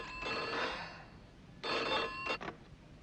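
A telephone rings in two bursts of electronic trilling, the second followed by a short clipped ring, moderately loud with no voices.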